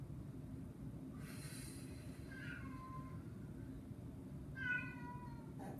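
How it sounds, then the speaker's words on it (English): A pet cat meows a few times in a quiet room, the short cries rising over steady low background noise, with one louder meow near the end. "That's my cat."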